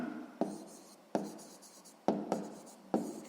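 Chalk or marker strokes on a board during a maths lesson, five or six sharp separate taps and scrapes spaced about a second apart, close and alone in a quiet room.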